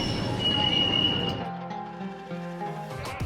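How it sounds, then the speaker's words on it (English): A metro train rolls along with a brief high-pitched wheel squeal, then settles into a low humming drone as it slows. "jumping right back into the metro to try to make it in time"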